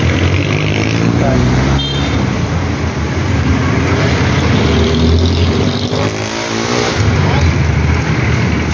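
Busy road traffic in Pasay City rumbles close and loud, with engines droning and revving steadily along a crowded street while people talk over it.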